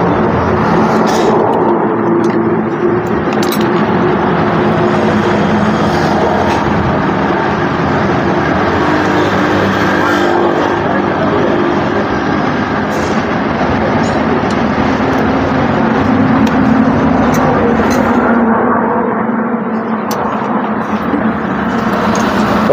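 A Honda BS6 Dio or Activa scooter engine runs continuously after a diaphragm change, a loud, steady close-up drone with no talk.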